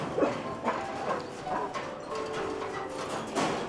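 A dog gives a few short barks and yips at intervals in a village setting, moderately close, with low background murmur and faint voices.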